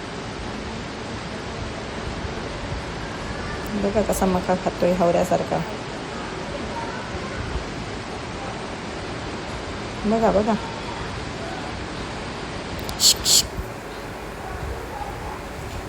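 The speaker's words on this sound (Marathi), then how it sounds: "धबधबा तर हा एक नंबर होता" A constant broadband roar of falling water fills the scene, with people talking briefly over it at a few points.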